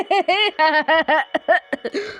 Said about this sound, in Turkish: Onun için arkadaşlar öksürüyorum onun yerine.